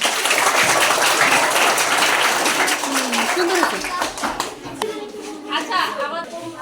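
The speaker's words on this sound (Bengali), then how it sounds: "সবাই একটা হাততালি দাও" Schoolchildren at a primary school clap together in a brisk burst of applause that fades out, with children's chatter mixed in.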